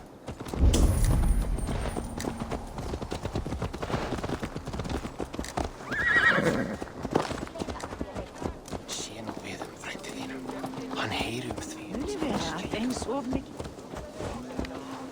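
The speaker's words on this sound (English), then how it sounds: "Let's return the horse." Horse hooves clip-clop in Assassin's Creed Valhalla, a steady trotting rhythm near and fairly loud, with a brief whinny partway through and in-game voices talking over it.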